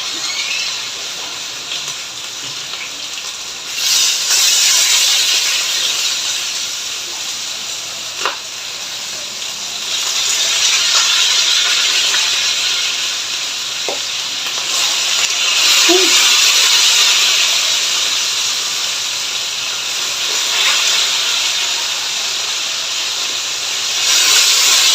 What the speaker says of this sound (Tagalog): Nananalsik.